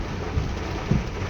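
Heavy monsoon rain hissing steadily around a car on a Kochi highway, with two short, deep thunder rumbles rolling under the constant downpour and no talking.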